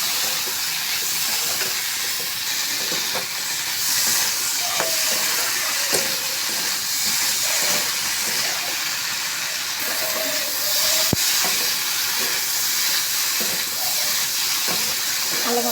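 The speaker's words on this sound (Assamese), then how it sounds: "আলু মটৰখিনি ভালকৈ ভাজি লৈছোঁ।" Potatoes and peas frying in a pan give a loud, steady hiss and sizzle throughout, with faint scraping stirs now and then and no talk.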